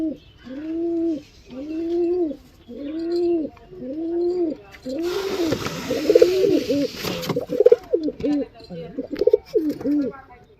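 Pigeons kept at home with their wings tied coo in a steady rhythm, roughly eight evenly spaced throaty coos close by, then a louder, busier stretch where the cooing overlaps with rustling and other noise.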